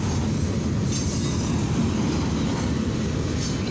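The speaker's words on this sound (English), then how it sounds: "Actually, this is a steel train, so this is a CFE mixed freight train." An eastbound CFE mixed freight steel train rolls past steadily, a dense continuous rumble of wheels and cars heard close and loud throughout, with no voices.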